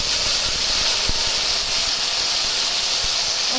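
Onion chilli paste sizzling in hot oil with curry leaves, a loud, dense, continuous hiss close by with an occasional faint knock.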